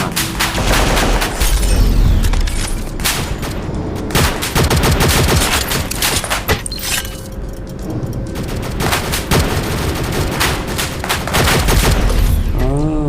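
Dense, continuous volleys of gunfire and bursts of automatic weapons in a shooting video game, loud and relentless, with occasional booms layered in and no talking.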